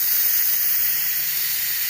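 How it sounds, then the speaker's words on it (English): Steam venting from an Instant Pot pressure cooker valve, a loud steady close hiss that runs unbroken throughout. "When you start to vent it, steam, you can probably still see it. Steam comes barreling out of there."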